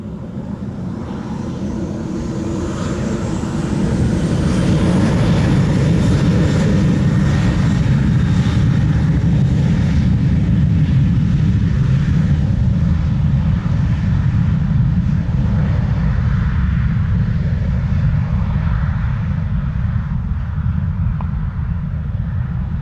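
JetBlue airliner on approach to runway 07 at Montego Bay, a loud sustained engine roar that swells over the first few seconds and stays steady and broad throughout, with a rising whine above it and no talk.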